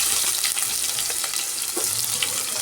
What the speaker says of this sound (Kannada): ಈಗ ಒಂದು ಈರುಳ್ಳಿನ ಈ ಥರ ಕಟ್ ಮಾಡಿ ಸೇರಿಸ್ತಾ ಇದ್ದೀನಿ ಒಗ್ಗರಣೆಗೆ